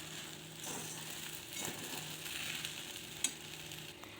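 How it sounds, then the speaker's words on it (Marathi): Sabudana khichdi (tapioca pearls) being stirred in a pan during cooking, giving a steady soft sizzle with scraping stir strokes and one sharp clink near the end, no voices. "मी त्याला परत एकदा हलवून घेते व्यवस्थित।"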